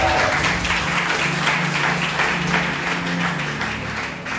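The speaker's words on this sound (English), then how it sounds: "I thought you would clap your hands." A church congregation claps and applauds together in a sustained, loud wash of clapping, with music and crowd noise underneath.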